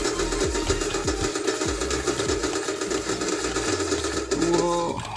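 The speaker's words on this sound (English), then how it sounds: "So you see now we have a machine gun sound effects" Machine gun sound effects from a Scratch shooter game sound as a rapid, continuous mechanical rattle of closely spaced shots. Repeated low thumps and a brief chime come through near the end, and no one speaks.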